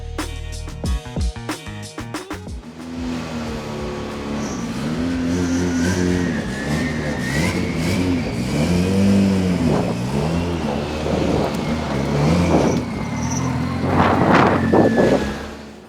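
A race car at a GRIDLIFE track event revs hard from a low rumble into a loud, rising engine howl with gear changes and wind buffeting, heard up close from inside the car, no talking.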